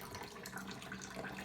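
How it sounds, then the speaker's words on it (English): Strike water for a brew of pale ale and pilsner malt pours steadily into the mash, a continuous close splashing rush with no pauses and no voices. "A little bit more strike water to go in"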